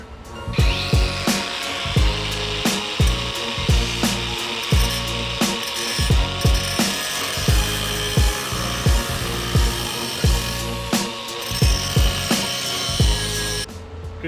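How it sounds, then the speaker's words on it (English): An angle grinder cuts through blast pipes: a continuous metallic whine broken by regular rhythmic scraping pulses as the disc bites, loud and close for about fourteen seconds before stopping. "we'll cut those with an angle grinder"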